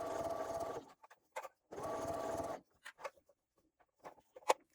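A sewing machine stitches through thick layers of a fabric clutch bag in two steady, close runs, each about a second long, followed by scattered small clicks and taps as the fabric is handled.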